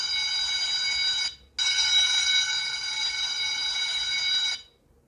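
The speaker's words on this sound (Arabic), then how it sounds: "ده صوت الساعه" Xinova Q10 smartwatch alarm ringing: a loud, steady high-pitched electronic tone with a brief gap near the start, then sounding continuously for about three seconds before cutting off, close and alone.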